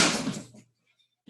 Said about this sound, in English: I'm about to close this door real quick